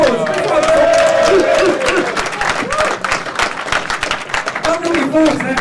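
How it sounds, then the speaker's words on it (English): A round of applause at a mixed martial arts pre-event press conference: a room full of clapping and some cheering, fairly close, with voices talking over it. "Give me a round of applause"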